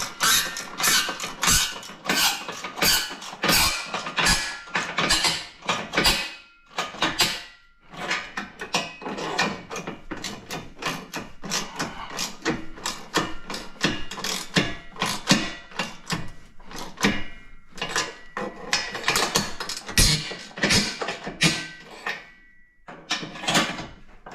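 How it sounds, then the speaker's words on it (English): Small, short ratchet turning bolts on a Polaris Sportsman 1000 ATV bumper guard, giving rapid, close clicking bursts in repeated runs with brief pauses between strokes. "this is a small ratchet. It's a shorter ratchet."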